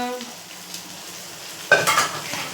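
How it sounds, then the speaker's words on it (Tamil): Lung stir-fry with grated coconut is stirred in a pan, giving a soft scrape and clatter of a spoon against metal that rises sharply near the end, with a faint sizzle underneath. "அப்படியே நல்லா கிளறி விட்டோம்னா"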